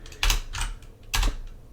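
Clicky keystrokes on a computer keyboard while entering a web search, with two loud bursts of several quick taps separated by a softer cluster, close and alone.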